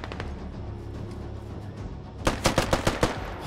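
Rapid full-auto gunfire bursts from a rifle in the game Squad, a tight run of sharp cracks near the end after a quieter stretch of background rumble and distant shots.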